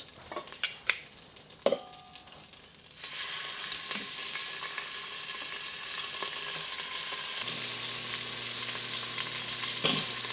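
Short ribs sizzle in hot oil in a pot, preceded by a few sharp clinks of utensils against the pot before a steady loud frying hiss takes over and continues to the end.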